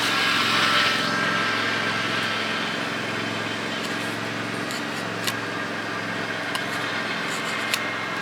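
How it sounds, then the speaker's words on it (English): A lawn mower drones steadily at a moderate distance, its engine hum constant throughout, with a few faint clicks on top and no talking. "he's coming around with the lawnmower"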